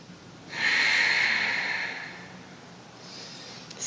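A single long breath through the nose during a yoga forward-fold stretch, close and soft, swelling then fading, followed by quiet room tone and a faint second exhale.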